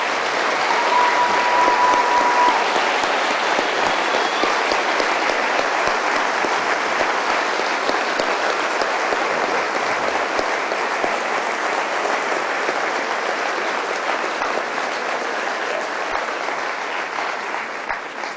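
Sustained audience applause welcoming Noam Chomsky on stage in Manchester, a dense, steady clapping from a large crowd that carries on evenly for the whole stretch without voices standing out.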